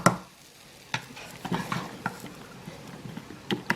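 A spoon stirs a sloppy joe mixture sweetened with monk fruit in a pan, making soft scraping strokes and a few sharp taps against the pan over a low sizzle, close and fairly quiet.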